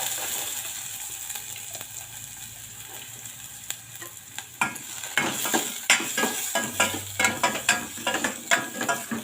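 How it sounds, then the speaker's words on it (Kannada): Chopped onion fries in a mustard and cumin tempering with a steady sizzle, joined midway by a series of rhythmic scraping and stirring strokes in the pan, close and clear. "ಸಣ್ಣ ಹೆಚ್ಚಿದ ಈರುಳ್ಳಿ ಹಾಕಿ ಫ್ರೈ ಮಾಡ್ಕೊತೀನಿ, ಒಗ್ಗರಣೆ ಮಾಡ್ಕೊತೀನಿ"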